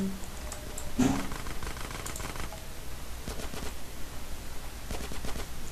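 Dual pistols firing in a GTA San Andreas mission, quick clattering shots in uneven bursts, moderately loud and close with a steady background hum.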